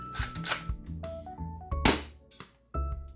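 A spring-powered airsoft pistol fires into a chronograph, sharp snapping shots ringing out close by with a few clicks and mechanical knocks between them, no talking.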